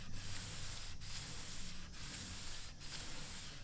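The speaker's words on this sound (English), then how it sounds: "320 on the belt sander." A belt sander fitted with 320-grit paper runs steadily over a kitchen countertop in an Airstream Argosy, making a continuous loud abrasive hiss broken by brief dips as it passes across the surface.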